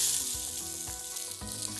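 Onion sizzling in hot oil on a high stove burner, a steady close frying hiss with brief louder crackles and bursts as pieces settle or are stirred.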